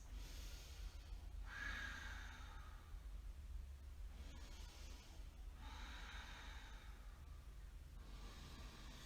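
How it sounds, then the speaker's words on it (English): Slow, deep yoga breaths drawn through the nose and throat, each long inhale and exhale swelling and fading in a steady rhythm, close and quiet over a low background hum, with no talking. "Exhale, deepen. 5 full deep breaths."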